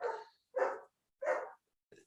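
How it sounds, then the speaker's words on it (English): A dog barks four times indoors near a door in Bariloche, Argentina, with sharp, close barks spaced evenly about half a second apart and silence between them. "I got to let my dog out the door so he can go see his mama who just came in."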